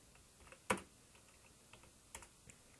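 A computer keyboard is tapped while Python code is being written, giving a few sparse, quiet keystrokes with one sharper clack near the start and light clicks after it, and no voices.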